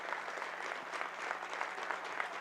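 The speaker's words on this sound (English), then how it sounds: "As the starters will head out and get a nice round of applause" A gym crowd at a high school girls basketball game applauds the starters, a dense, even wash of clapping from many hands at a moderate distance, steady for the whole stretch.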